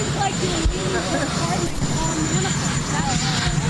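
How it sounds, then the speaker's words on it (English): A helicopter's steady mechanical drone fills the background, loud and continuous, with occasional voices and crowd noise mixed in. "You have a helicopter."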